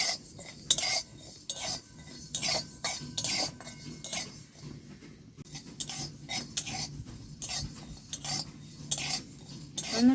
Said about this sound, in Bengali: জিরে ধনে আমি এখন ভালো করে ভেজে নেব।